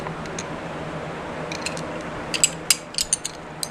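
Ratchet wrench from a cheap serpentine belt tensioner tool set, handled in a quiet room: faint clicking early on, then a run of sharp, close metallic ratchet clicks and snaps toward the end.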